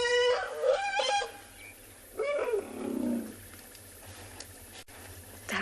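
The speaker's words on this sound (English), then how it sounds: "That is the sound of a young calf being weaned and being denied milk from mum." A young buffalo calf being weaned cries out in loud, hoarse bleating calls, one pair early and another longer moaning bawl after a pause, outdoors on safari against steady background hiss.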